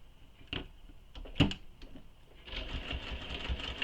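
A sewing machine runs in short bursts and then a longer steady stretch, stitching a bag seam during a shoulder bag tutorial; close and moderately loud, with no talk over it.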